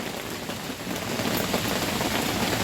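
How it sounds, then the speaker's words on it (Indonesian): Rain falls steadily on a mountain trail near Puncak Pasir Ipis in Sukamakmur, a dense, close, even patter with no voices and no letup. "Hujan, aku mau meneduh dulu di situ."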